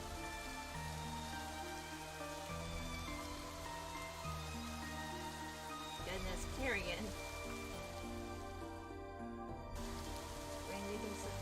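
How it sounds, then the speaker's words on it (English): Steady rain patters against windows in the Psychedelica of the Black Butterfly video game, a continuous soft hiss running beneath music and a voice talking throughout. "Rain begins to fall, steadily growing in intensity, so it bounced violently on the windows."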